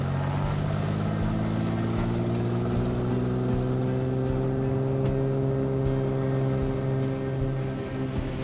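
Small airplane engine during takeoff from runway 10, a steady loud drone whose pitch rises gradually as power builds, heard from close by with no talk.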